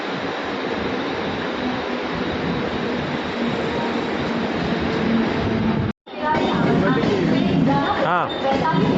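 A crowded local train rolls along with a loud, continuous rumble, while passengers talk over it; the noise cuts out briefly near the end before resuming.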